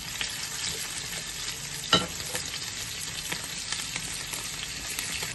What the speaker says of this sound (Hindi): इसको अब मैं प्याज के साथ ही फ्राई कर रही हूँ।